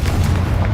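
A Confringo fire spell detonates in Hogwarts Legacy, a loud, deep booming blast with heavy low rumble that fills the short moment without pause.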